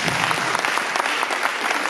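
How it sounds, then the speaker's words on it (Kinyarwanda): An audience applauding at a church gathering, a full, steady roar of many hands clapping throughout, close and loud. "Komera Imana amashyi menshi cyane"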